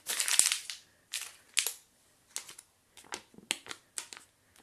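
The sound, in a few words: crumpling a paper banknote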